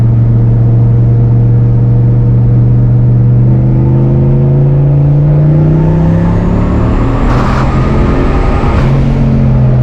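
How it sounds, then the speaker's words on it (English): War Admiral street car accelerating hard in third gear with the tyres breaking loose, a loud, close engine roar climbing steadily in pitch, with rough tyre-scrub bursts near the end. "Dude, it's breaking tires in third, Like it's nothing."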